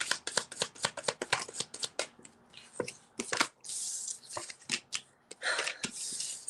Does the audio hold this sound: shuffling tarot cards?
yes